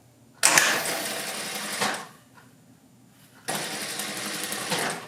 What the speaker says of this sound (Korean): 미싱 여기서 보시게 되면 미싱 노루발 1개 간격으로 박아주시면 됩니다